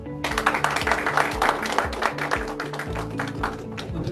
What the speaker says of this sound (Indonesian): Mohon tepuk tangan.